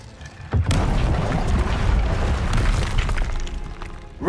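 An Incendio fire spell cast in Hogwarts Legacy on Xbox Series X bursts in with a sudden loud, broad whoosh and boom, then roars steadily for several seconds with crackling texture.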